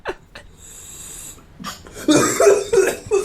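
A person coughs several times, harsh raspy bursts close to the mic, preceded by breathy, wheezy sounds in a quiet room.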